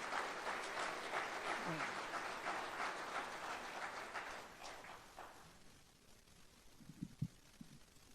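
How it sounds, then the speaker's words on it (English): Crowd at an annual sports awards banquet applauds, a broad wash of clapping for about five seconds that fades out, followed by quieter room noise and a few faint knocks. "How about another round of applause for Jeff Lynn, ladies and gentlemen?"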